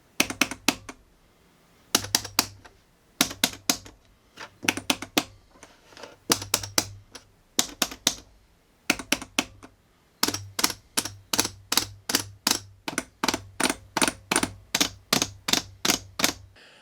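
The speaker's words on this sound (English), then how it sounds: "The buttons, I think, feel really good. They sound a little snappy." Snappy, high-pitched clicks from the arcade buttons of a Hori Fighting Stick Alpha, tapped in quick rhythmic bursts that turn into a steady run of presses, close and crisp with no voices.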